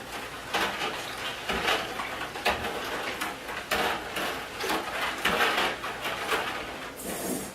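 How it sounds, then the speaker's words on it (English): Homemade laundry soap being stirred in a container, a steady run of scraping, clattering strokes repeating close by for several seconds with no talking. "Going to stir it up."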